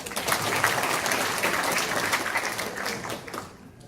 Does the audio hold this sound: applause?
yes